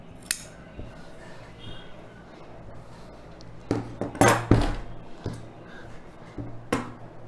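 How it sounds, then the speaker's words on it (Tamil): Scissors snip through chudidhar lining fabric pieces being cut for a U-neck lining chudidhar, giving a few sharp crisp cuts clustered mid-clip and near the end, close and alone with no talk. "லைனிங் பீஸஸ் கட் பண்ணிக்கலாம்"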